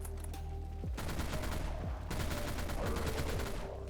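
Kraken minigun firing in the video game Dead Frontier, two long sustained bursts of rapid-fire shots in a dense rattling stream, loud and continuous with a brief pause between them.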